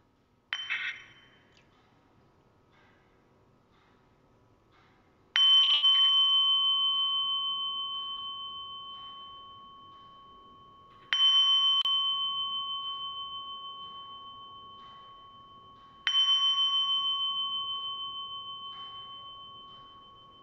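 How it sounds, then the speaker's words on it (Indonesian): A Buddhist genta bell rings during a meditation session, struck four times several seconds apart. Each strike is a bright metallic hit that opens into a long, pure, sustained ring and decays slowly. The tone is clear, close and unaccompanied by voices. "Kita dengarkan suara Genta."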